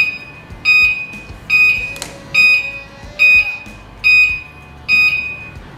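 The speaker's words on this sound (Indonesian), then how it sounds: "kalau kita aktifin sen kurang lebih suaranya seperti ini" Turn signal beeper on a Goda Golden Tiger 147D electric bicycle, a loud repeating electronic beep pulsing about six times at an even rhythm, close up with no talking.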